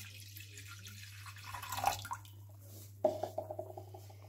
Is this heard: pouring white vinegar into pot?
yes